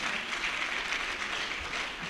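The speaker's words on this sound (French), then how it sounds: "vous avez raison de l'applaudir" Brief audience applause during a graduation ceremony speech, a steady, moderately loud wash of clapping from a crowd.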